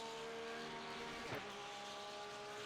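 A Porsche GT3R race car engine at Zandvoort drones steadily at high revs from the cockpit, a strong harmonic whine with a brief sharp burst midway, continuous and close.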